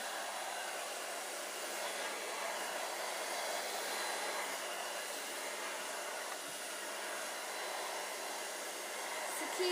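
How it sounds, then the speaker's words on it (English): A hair dryer blows steadily and loudly while drying a girl's hair being prepared for a fishtail braid, a constant close whooshing roar with no talk. "I'm going to blow dry her hair"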